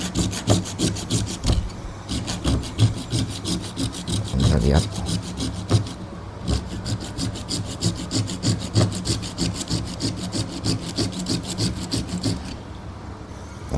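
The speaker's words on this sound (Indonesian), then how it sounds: "Yang ketiga, gue coba untuk motong pulpen plastik." An OLFA 213B (HSWB-1) craft saw cutting through a plastic pen, with steady rhythmic back-and-forth rasping strokes close up, a brief pause partway through, and a few quiet words spoken.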